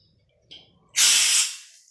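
Gas hisses out in a strong, close burst lasting about half a second and then fading, preceded by a shorter, softer hiss, as a gas cylinder is being filled and the nozzle fails to seat properly.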